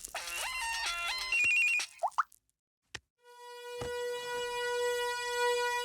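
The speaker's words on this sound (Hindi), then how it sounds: "किसी का फोन आया है।" A phone ringtone plays as a bright, steady electronic melody that starts up and keeps ringing at a moderate level after a short burst of other tones and a gap of near-silence.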